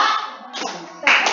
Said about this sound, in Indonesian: tepuk tangan satu kali, tepuk meja satu kali